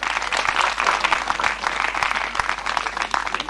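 An audience at a Women Rights Day seminar in Khanewal claps steadily, a dense, lively round of applause heard close with some sharper individual claps standing out.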